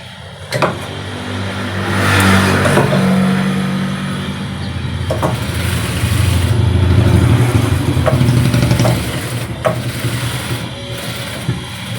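A sewing machine stitching a men's vest runs in a steady continuous whir for most of the stretch, with a few sharp clicks and knocks between runs; nobody speaks.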